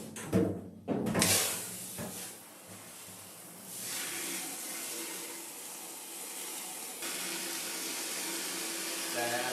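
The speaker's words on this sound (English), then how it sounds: "let's get the water warmed up" A tap runs steadily to warm water for a dog's bath, a continuous hiss and splash following a few knocks and bumps at the start.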